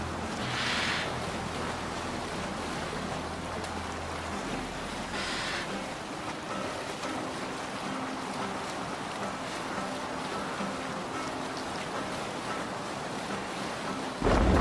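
A Viking longship under sail in Assassin's Creed Valhalla, with ocean waves washing and wind rushing in a continuous, even wash of sea noise, with a low drone underneath and no talk.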